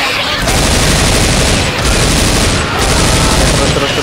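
Dense, loud automatic gunfire in the zombie shooter Left 4 Dead 2, a continuous clattering barrage with brief dips, close and overpowering.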